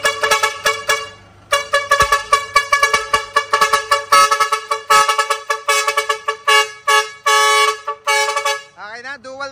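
Dual trumpet car horn wired to a horn module, blasting a loud rapid run of stuttering honks and changing tones, ending in a brief warbling siren-like sweep.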